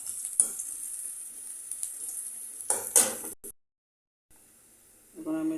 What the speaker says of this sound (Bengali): আমি একটু হালকা পেঁয়াজ আর মরিচ ভেজে নিব